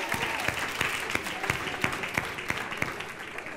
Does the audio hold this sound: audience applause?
yes